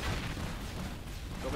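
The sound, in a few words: explosions in a video game (AFF)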